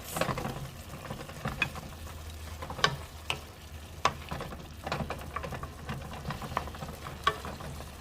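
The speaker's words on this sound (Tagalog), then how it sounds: "i-add natin yung ating mushroom and shrimps. And then, i-mix." Mushrooms and shrimps stir-fried with mixed vegetables in oyster sauce: a steady frying sizzle in the pan under repeated sharp clacks and scrapes of a spatula tossing the food, close and alone without talk.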